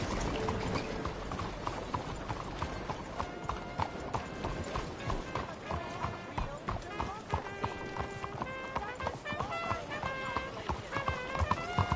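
Horse hooves clip-clopping at a gallop in a PS4 video game, a fast, steady rhythm of close thuds with occasional mechanical clinks and tonal game sounds layered above.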